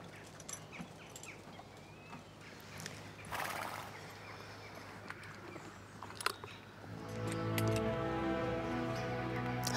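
In a Magnificent Century period drama, a horse shuffles and clops its hooves quietly at first, then lets out a loud, drawn-out neigh that rings out over the final few seconds.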